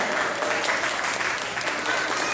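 Crowd at an Utkal Divas community celebration claps loudly and continuously, a thick, sustained burst of many hands close by, with a faint murmur of voices underneath.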